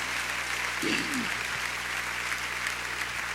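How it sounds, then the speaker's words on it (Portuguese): Church congregation applauding during a Portuguese-language service, a steady wash of clapping throughout with a brief voice or cheer rising over it near the start. "Vamos aplaudir essas pessoas que levantaram as mãos em nome de Jesus."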